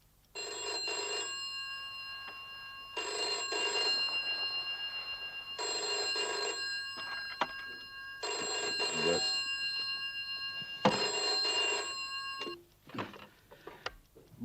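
Five long bursts of a telephone ringing, evenly spaced, each about a second long with pauses between, fairly loud and clear, ending in faint handling noises.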